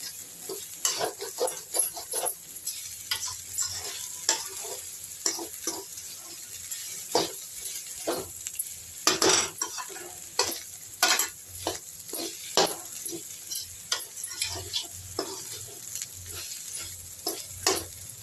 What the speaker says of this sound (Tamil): நல்லா வதக்குங்க. நல்லா வதங்கி வரணுங்க.